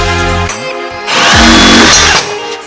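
A power saw cuts through the front subframe of a Datsun 260z, sounding loud and close in harsh whining bursts, its pitch shifting under load with a brief lull between cuts.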